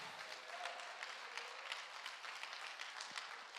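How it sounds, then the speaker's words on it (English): A church congregation applauds after Sunday morning worship, a steady wash of many hands clapping at moderate, fairly quiet level throughout, with no talk over it. "let's just give God a just round of applause and thank him for it."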